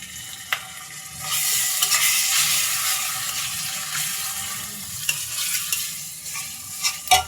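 Ginger-garlic paste with turmeric and chilli powder frying in a pan for a beef and potato curry. A steady sizzle swells after the first second, and sharp spoon knocks land near the start and end, close and unvoiced.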